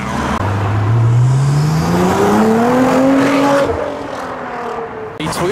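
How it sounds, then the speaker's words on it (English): A turbocharged turquoise Toyota MR2 arrives at a car meet, its engine revving up in one long rising pull that stays loud and close before easing off, with a brief extra noise at the end. "A Toyota Mr. 2 in turquoise. Sounds turbocharged."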